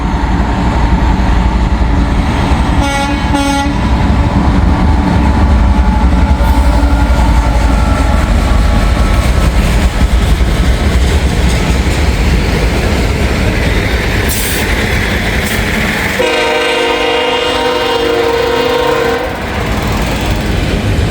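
A CSX freight train loaded with huge stones rolls past a road crossing, loud and close, with a continuous rumble and clatter of wagons and horn blasts near the start and again later.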